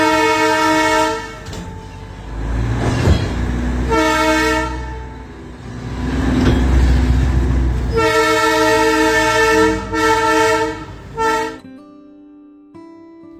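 Darjeeling Himalayan Railway toy train on a steep mountain route, giving loud, sustained multi-tone horn blasts in several bursts over a rumbling running train, then a brief quieter tail.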